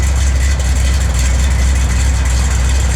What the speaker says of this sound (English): Man, this car sounds good.